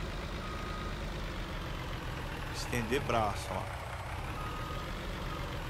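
A truck in Farming Simulator idles and reverses, with a steady low engine rumble under a short run of reversing beeps near the middle and someone talking over it.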